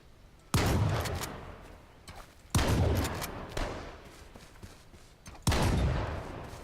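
Three loud gunshot blasts in the H1Z1 video game, evenly spaced about two and a half seconds apart, each hitting sharply and decaying into a rumbling tail with no talking.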